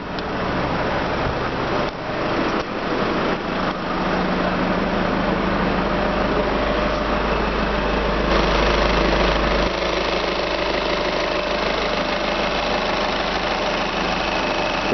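A 2011 Volkswagen Jetta's 2-litre turbo diesel idles steadily up close, a loud, continuous low clattering rumble with a slight diesel knock, unchanging for the whole stretch with no voices.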